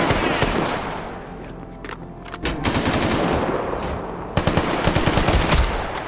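Gunfire in a survival video game, dense bursts of automatic shots crackling over a constant noisy backdrop, with a brief lull before a second volley of rapid fire.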